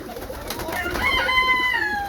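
Roller pigeons in a competition kit loft, young birds off a red-balded hen, give soft overlapping coos and calls close by, with rustling and a steady loft background throughout.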